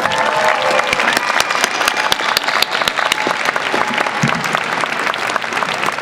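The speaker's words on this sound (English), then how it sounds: "I'm going to ask you to give me a very big round of applause for the Master of" A large graduation crowd applauds Master of Arts Management graduates in steady, dense clapping that holds evenly throughout, with a few sharper individual claps standing out near and a faint murmur of voices underneath.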